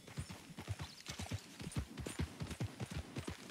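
Horse hooves clip-clop at a steady trotting rhythm in Red Dead Redemption 2, close and fairly loud, a long run of even footfalls with no talk over them.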